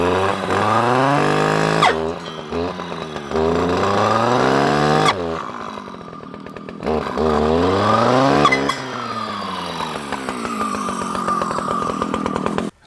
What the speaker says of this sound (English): that little brush cutter made short work of that, even a thicker tree such as that